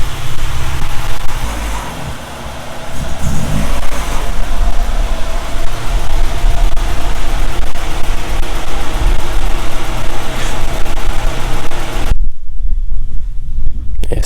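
A Honda Civic with an H2B engine swap runs with a steady, loud, rough mechanical drone. Wind buffets the microphone throughout, and the sound drops off sharply near the end.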